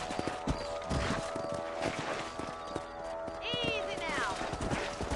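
Horse hooves clip-clop steadily through a Red Dead Redemption ranch ride, set under a man's speech, with a brief whinny and ambient game sounds.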